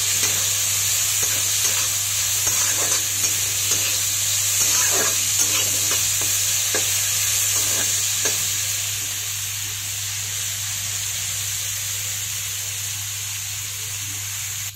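Rice and chopped cabbage are stir-fried on a high gas flame as a loud, steady sizzle and hiss runs under repeated close scraping of a spatula through the pan, with no talk.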